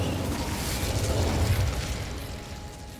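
In Hogwarts Legacy an Incendio fire spell erupts in one sustained, low, rumbling whoosh that fills the clip and fades slightly at the end, with no talk.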